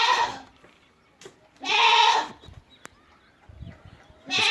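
Goats bleating on a goat farm with a feeding tray setup, several loud, close bleats in bursts separated by quieter pauses with faint shuffling and a sharp click.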